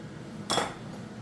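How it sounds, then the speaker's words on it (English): Cooked beans drop into a pot of chili con carne with a single short, soft clatter and splash against the pot, over a quiet kitchen background. "we're going to take our beans, we're going to throw these guys in here as well"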